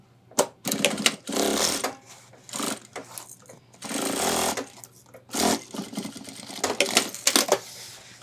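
A sewing machine tacks a pocket onto a homemade ultralight backpack, running in short close bursts of rapid stitching separated by brief pauses, with a steady low hum underneath.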